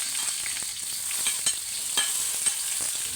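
Food sizzles in a hot wok during stir-frying, a bright steady hiss punctuated by repeated soft clacks of a spatula stirring, close and continuous without talk.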